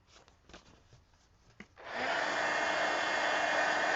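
A hair dryer drying art journal pages switches on after a couple of seconds of light paper handling and rubbing, then holds a loud, steady airy roar to the end.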